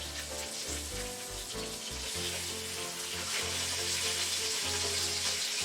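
Southern-style hamburger steaks fry in a skillet with a soft, steady sizzle and spatter, fairly quiet and continuous, with a faint low tonal hum running underneath.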